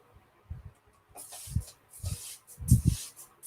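Short hissing bursts of water mist from a spray bottle land on woodchips. Several puffs come close together near the mic, mixed with soft low handling thumps.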